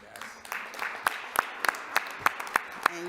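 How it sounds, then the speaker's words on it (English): A small crowd claps for parents at a city council meeting, a soft rolling patter punctuated by a few sharp, louder claps at a steady rhythm, fairly close, with murmuring voices beneath. "you turn around and you give your parents a round of applause"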